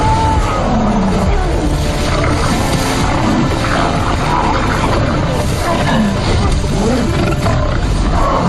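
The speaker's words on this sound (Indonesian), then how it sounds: "membawanya ke depan kawanan singa dan pertarungan pun terjadi" Lions roar and snarl in a fight scene from the film The Beast, a dense, continuous and very loud barrage of growls and roars with rumbling effects underneath.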